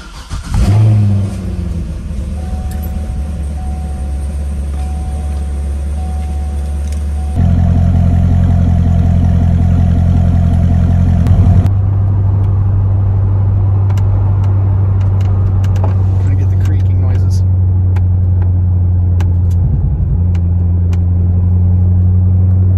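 A C6 Corvette engine starts, idles, then revs up and settles into a steady running drone, with a shift in engine tone partway through as it drives.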